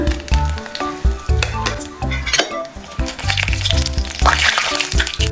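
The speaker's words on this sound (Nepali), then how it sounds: "अब यसमा यो मेथी हालिदिन्छु" Fenugreek seeds and dried chilies hit hot mustard oil, producing a loud, close crackling sizzle punctuated by metallic clinks and scrapes of a utensil against the pan.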